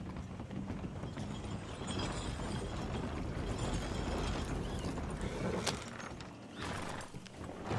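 A horse clip-clops along in Red Dead Redemption 2, its hooves beating steadily under a continuous gameplay background.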